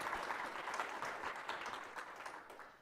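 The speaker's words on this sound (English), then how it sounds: "give a round of applause to our second group of panelists for joining us" An audience applauds a panel of speakers at a book launch in KwaZulu-Natal, South Africa, with many hands clapping in a dense, steady patter that slowly fades.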